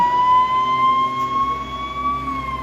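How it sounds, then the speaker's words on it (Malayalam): An ambulance siren wails steadily in a crowded Shimla market, its tone rising and falling slightly over a low hum of traffic and street noise, fairly loud and continuous without talk. "Ambulance is coming I guess."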